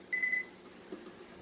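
A kitchen timer beeps during canning of half and half: one short, thin electronic beep tone, faint and alone in a quiet room.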